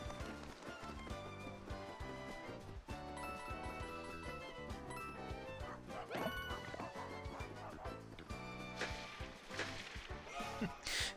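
A dog built from paper barks in Paper Mario: The Origami King, sharp yips and a crash sounding over busy game music.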